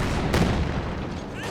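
ZiS anti-tank gun firing at a Panzer IV in Company of Heroes 2, a single loud blast with dense battle noise around it, close and heavy, with a voice talking over it.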